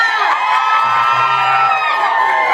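A large crowd screams and cheers loudly for a singer at a concert, a sustained burst of high-pitched shrieks and whoops filling the whole moment.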